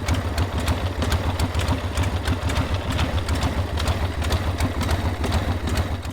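A motorcycle engine idles steadily and loudly, with a rapid mechanical ticking from a worn clutch adjuster running throughout, close by and with no talking.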